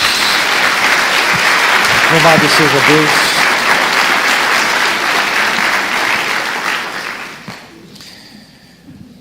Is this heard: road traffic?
no